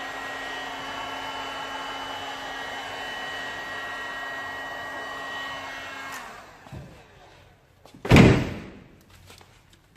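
A heat gun runs with a steady blowing whir as it post-heats vinyl wrap on a car fender, then cuts off, followed by a loud thump and a few faint handling noises.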